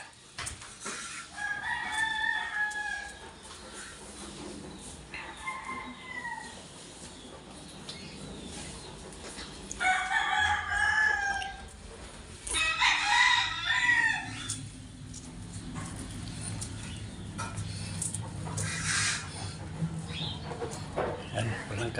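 Chickens and a rooster being fed upstairs, with repeated clucking calls and several loud crowing bursts in the mix, close by, over steady background noise.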